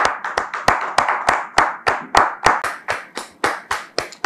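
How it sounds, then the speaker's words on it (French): Studio audience at a church talk show applauding arriving guests: a rhythmic run of sharp, loud claps, evenly spaced and close, with no talk over them. "Merci de recevoir nos visiteurs de la soirée sous vos applaudissements"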